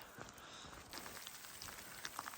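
Hail falls during a mountain storm near a backpacking camp on the Maroon Bells loop, a dense steady patter of pellets striking the ground and gear close by, with scattered sharper taps.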